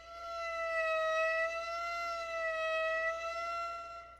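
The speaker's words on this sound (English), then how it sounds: "I've done 2 vibrations per bow." A single sustained violin note with slow, even vibrato, the pitch wavering twice per bow stroke, harmonically rich and close, played alone without speech.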